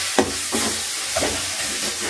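Ginger, garlic and green chili paste sautés in a tomato gravy with turmeric for a baby jackfruit kuruma. A steady, loud hiss of steam and frying runs throughout, with a few soft stirring bumps.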